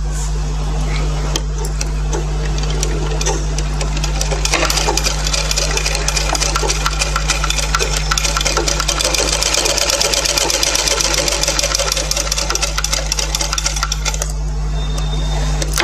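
An electric sewing machine stitches a frock with a steady rapid mechanical chatter, starting and stopping, close and loud over a constant motor hum.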